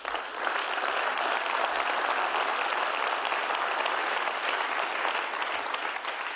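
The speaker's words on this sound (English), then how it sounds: "I think that deserves a round of applause." Steady, full audience applause fills a hall at the UNHCR Nansen Refugee Award ceremony, a dense uninterrupted wash of clapping from many hands lasting throughout with no talk over it.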